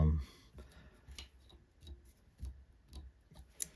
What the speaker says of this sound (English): want to clip off all of these cut ends